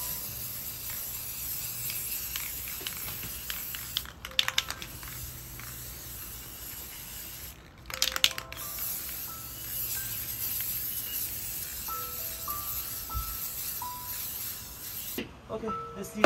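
A gold spray paint can hisses steadily over an antique mirror frame, a continuous close airy spray broken by a few short pauses and clicks of the nozzle.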